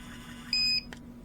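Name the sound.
Istoyo mixer beeping when switched off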